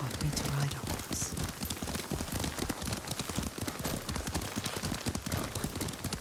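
In the video game Ghost of Tsushima, a horse's hooves clip-clop in a quick, steady rhythm while being ridden, continuing throughout under conversation between characters.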